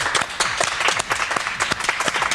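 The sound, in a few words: audience clapping hands at Final Fantasy XI launch event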